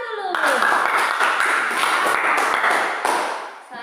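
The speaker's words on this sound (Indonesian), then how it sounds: "Tepuk tangan dulu." A classroom of students claps together after a lesson answer, a short burst of lively clapping that fades out, with a tone sliding down at the start and voices mixed in.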